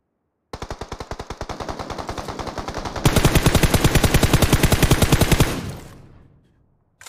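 Automatic gunfire rattles in a shooting video game, a fast steady stream of loud close shots that gets louder partway through, then stops and rings out into a fading tail.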